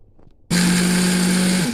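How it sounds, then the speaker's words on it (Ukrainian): A blender grinding sieved poppy seeds switches on abruptly after a short quiet moment and runs steadily with a loud, high whirring drone, grinding close up. "Тепер пересіджений мак перебиваю блендером до однорідності."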